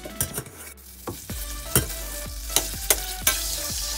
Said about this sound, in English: Sauce pot on medium heat, and I will put 2 tablespoons of butter.